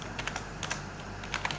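Computer keyboard keys tapped while writing Python code, a quick uneven run of soft clicks close by with short pauses between bursts.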